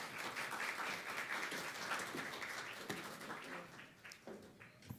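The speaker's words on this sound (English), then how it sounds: "Let's give her a round of applause as she comes." Applause at a student success forum as a speaker comes on stage, moderate clapping from the audience that thins toward the end into scattered claps.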